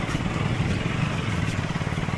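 A KTM motorcycle engine putters at low revs with a steady, slightly uneven chugging as the bike lurches along a muddy road, heard close without talk.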